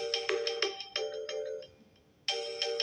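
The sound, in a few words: Samsung A9 phone ringtone playing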